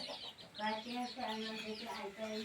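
Chickens cluck and call at a rural hamlet, a close run of short, rising clucks in quick succession with faint voices and background noise beneath.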